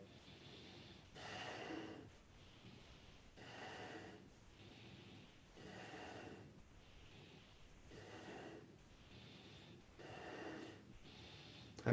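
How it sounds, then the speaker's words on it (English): Heavy, labored breaths during a Kundalini yoga exercise come in a steady rhythm of repeated inhales and exhales, close and fairly faint, with no talk. "I'm noticing my breathing is getting a little more labored"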